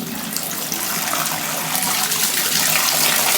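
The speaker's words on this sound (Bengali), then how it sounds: "আমরা প্রাচীন পদ্ধতিতে তরমুজ ভিজাচ্ছি আর এদিকে ডাব ভিজাবো" Water runs or pours steadily and fairly loudly into a container where a watermelon and green coconuts are soaking to chill. The gush stays broad and continuous throughout, with no voices.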